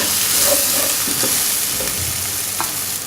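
A masala of red chilli powder, turmeric, salt and crushed chilli sizzles steadily in a pan while a spoon stirs it, with occasional scrapes and pops for mutton brain fry.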